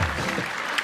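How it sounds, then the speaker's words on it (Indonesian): Brief applause from a studio audience on a comedy show, a dense burst of clapping that holds steady for under a second, with faint voices mixed in. "tepuk tangan dong"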